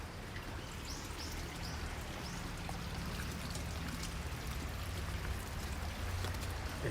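Spring water runs through a channel in Tokyo with a steady, close rushing and trickling wash that never lets up, with faint splashes scattered through it.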